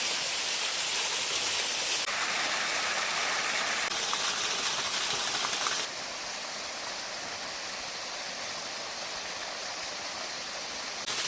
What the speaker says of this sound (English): We're just sitting here staring at the waterfall because it's just so like mesmerizing.